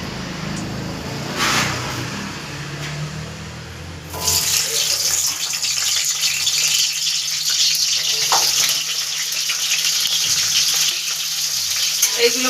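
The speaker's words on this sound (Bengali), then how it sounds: "তো এইগুলোকে আমি তেলের উপরে আগে ভেজে নেব।" Onion, garlic and ginger hit hot oil in a village Bengali kitchen and set up a steady, bright frying hiss after a quieter start, holding close and loud throughout with no talking.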